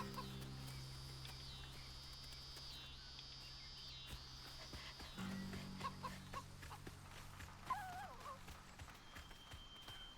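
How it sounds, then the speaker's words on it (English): Chickens in the video game South of Midnight cluck softly over a steady bed of insect and cricket chirring, with low game ambience and a few faint clicks. "Chickens."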